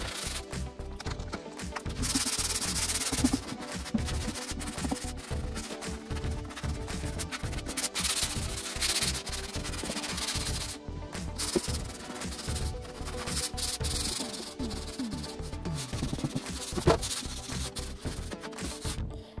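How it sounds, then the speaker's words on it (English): A hand sander fitted with 150 grit sandpaper works across a painted wooden desk, giving a continuous fairly quiet rasping scrub that carries on unbroken. "Now I'm going to switch over to the hand sander and I'm using 150 grit sandpaper."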